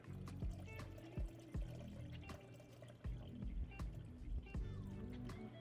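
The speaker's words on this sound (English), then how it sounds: "I'm gonna get this in the aquarium as well and fill up the extra water that we need, and I'll just pour it straight on top of my tree" Water poured into an aquarium from above onto a decorative tree, a continuous splashing pour with occasional heavier sloshes and drips, fairly close.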